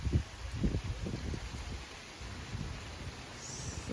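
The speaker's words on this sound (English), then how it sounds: "The rain's starting to come now." Steady hurricane rain with low rumbling gusts and thuds, a continuous wash of noise with no voices.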